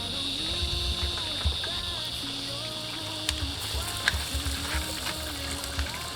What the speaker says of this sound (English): We're just shallow frying, we're not deep frying. So my dad's gonna go ahead and throw the catfish in